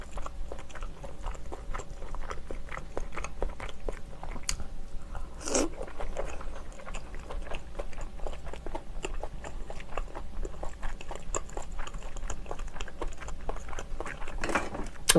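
Steamed clams dipped in soy sauce are chewed close to the mic, a steady run of soft, wet, crunchy bites and mastication with no talking.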